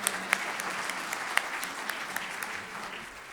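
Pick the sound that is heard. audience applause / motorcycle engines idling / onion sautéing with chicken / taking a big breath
audience applause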